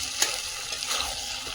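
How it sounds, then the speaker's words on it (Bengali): Chicken being cooked down in spices in a pot over a wood fire, a constant bright sizzle with small crackling pops, close and moderately loud. "আর একটা চটচট আওয়াজ হচ্ছে।"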